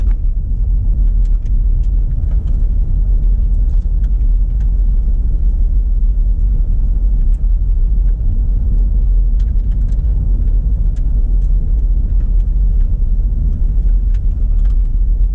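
A car rolls along a dusty rural road in Oakland Township, Michigan, giving a loud, continuous low rumble of tires and engine with faint scattered ticks of grit, steady throughout.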